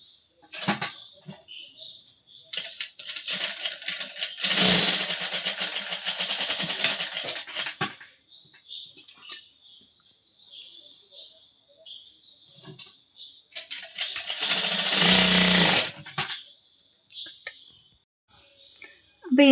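A sewing machine stitches fabric for a bow in two loud whirring bursts, with quieter clicks and someone speaking between them.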